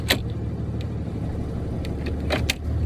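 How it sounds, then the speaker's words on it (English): A truck's engine starting during a pre-test CDL inspection, a low idling rumble steady beneath a few brief clicks and clunks from the cab. "I'm going to start my engine."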